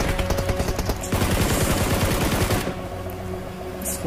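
Sustained automatic assault rifle fire in a video game, a dense rapid burst that runs loud for about two and a half seconds before easing into fainter shots and game noise.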